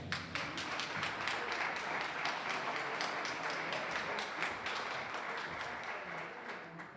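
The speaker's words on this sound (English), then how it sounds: "You may applaud." An audience at a neighborhood awards evening applauds a guest speaker, a quiet but sustained crackle of many hands clapping with distinct individual claps over a steady wash, heard from a distance.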